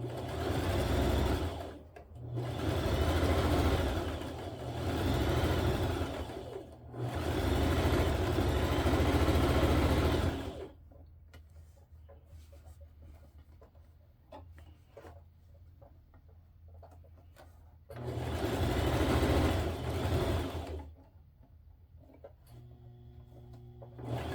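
A sewing machine stitches over elastic on a quilt in several loud, close bursts of rapid whirring, separated by quieter pauses with faint handling sounds.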